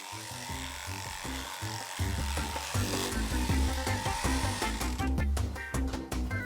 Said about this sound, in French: les brebis abandonnent leur lainage grâce à la tondeuse experte de Gilles Loutenbach